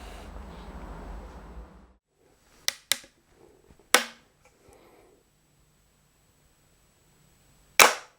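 A flintlock's flint strikes the frizzen in a few sharp, isolated snaps, three close together and then a louder final crack after a long quiet pause, each one short and near.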